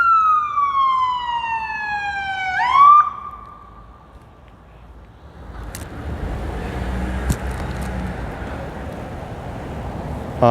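An AMR ambulance siren on a Seattle street wails loudly in sweeping tones that drop sharply and cut off, leaving traffic rumble and scattered clatter behind.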